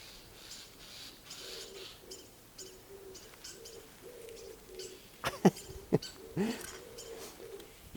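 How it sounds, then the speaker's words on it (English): A starling calls outdoors in a repeated series of harsh, chattering bursts, with a few sharper, louder notes partway through, moderately close in the open air. "that's a starling making that racket"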